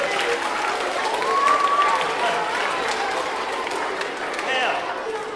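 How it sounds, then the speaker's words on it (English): Audience at a magic show applauding after a balloon dog trick, a continuous wash of clapping from a crowd with a few voices and a whoop rising through it. "Was it worth a round of applause though?"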